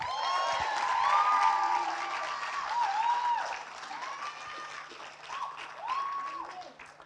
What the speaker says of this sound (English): we're going to clap for each one